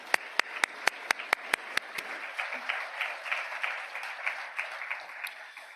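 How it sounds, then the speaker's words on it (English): Sharp, loud claps ring out in a quick burst, then spread into steady applause from a conference audience that carries on to the end. "if we could give all those people a round of applause"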